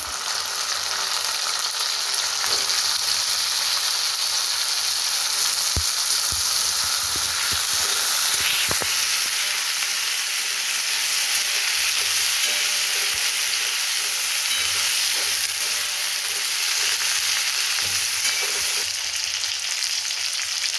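Brinjal frying in oil in a pan for a curry, a steady bright sizzle and hiss that continues without a break, with occasional soft clicks of stirring and no talking.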